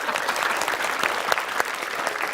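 A studio audience at a televised comedy quiz show claps steadily, a fairly moderate, even wash of hands with a few sharper individual claps standing out.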